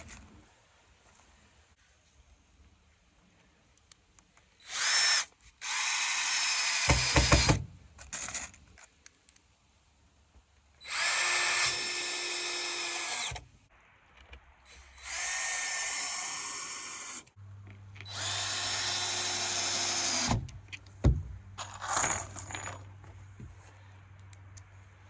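A power drill drives cheap Dollar Tree screws in a series of loud whirring bursts, each lasting one to three seconds and separated by short pauses, with a faint clatter between runs.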